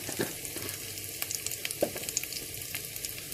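Curry leaves sizzle and crackle in hot oil for a mixed vegetable curry, a steady close frying hiss with sharp pops scattered throughout.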